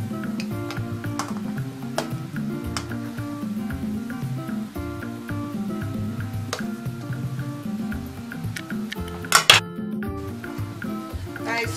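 Kulikuli spicy peanut sticks frying in hot oil and being turned over until brown and crispy, a steady close sizzle with light stirring and scraping taps, and a brief louder clatter near the end.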